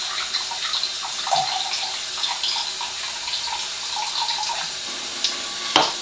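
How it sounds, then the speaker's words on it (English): Water pours steadily from a KYK water ionizer unit for testing, a continuous close splashing stream that runs for about six seconds, with a brief clink near the end. "I'm going to go ahead and pour this at the second step"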